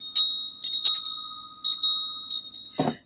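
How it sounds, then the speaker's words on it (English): A small bell rings in several bright, ringing strikes with pauses between them, each ringing on and fading; a brief low thump sounds at the end, with no talk. "Jax, I love the bell"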